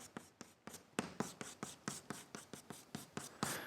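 Chalk or marker writing during a mathematics lecture gives a quick, even series of close, crisp strokes and taps, with no talk.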